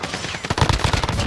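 Gunfire in a shooting video game, a quick burst of several sharp shots close together, loud and alone.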